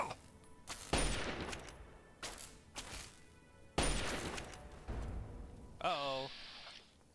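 Bursts of gunfire in the game Fallout 3, several loud separate volleys with rattling tails, followed by a short electronic falling tone near the end, all close and dominant.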